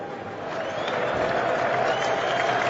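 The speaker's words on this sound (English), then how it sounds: "You can actually hear the crowd now." Cricket crowd at Lord's during an England versus Australia match cheers and applauds, a broad, steady roar of clapping and voices that swells slightly and holds.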